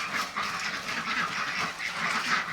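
Ducks on a farm quacking in a dense, continuous chorus, several birds calling over one another at close range with no talk.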